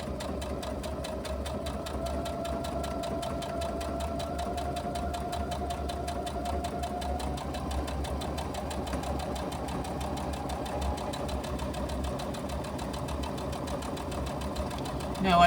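A sewing machine stitches a laptop bag in one long, even mechanical hum that keeps a steady rhythm for the whole stretch.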